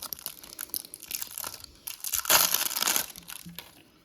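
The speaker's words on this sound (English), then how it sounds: "Cut the thing with a pocket knife." A pocket knife cuts open collectible packaging up close, with scratchy slicing, crinkling plastic and a louder tearing rip partway through, and no talk over it.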